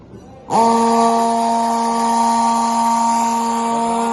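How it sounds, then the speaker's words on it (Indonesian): A vacuum pump switches on abruptly after a brief quiet and settles into a loud, steady, high-pitched mechanical whine running at about 2806 RPM in a pump maintenance workshop. "kemudian di sini saya akan mencari RPM, suhu dan getaran pada pompa vakum ini."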